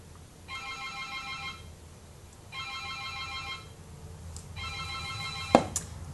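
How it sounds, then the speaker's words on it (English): A telephone rings indoors in three evenly spaced electronic bursts, each about a second long, fairly quiet over a low background hum, followed by a brief clunk as it is picked up. "And that's the phone."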